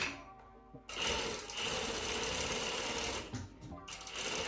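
A sewing machine stitches an inseam pocket with back tacks, starting after a short pause into a fast, continuous mechanical whirr, stopping briefly near the end and then starting again, close and steady.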